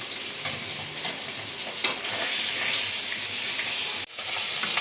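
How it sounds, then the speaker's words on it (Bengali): Koi fish frying in oil gives off a loud, continuous sizzle with occasional crackles and a short dip near the end. "মাছগুলো আমার ভাজা হয়ে গেছে"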